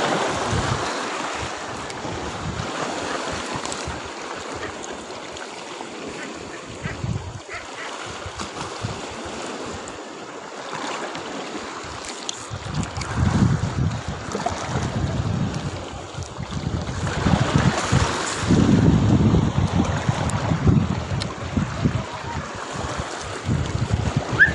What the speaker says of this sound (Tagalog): Medyo maalon talaga guys at malabo ang tubig sa gilid ng batuhan.